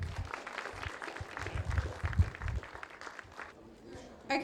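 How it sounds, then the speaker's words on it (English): Audience in the main hall at the Macfest 2020 opening ceremony, British Muslim Heritage Centre, breaks into sustained applause, a dense wash of clapping with some voices mixed in, fading briefly before a final burst. "So please give a round of applause to Jamila."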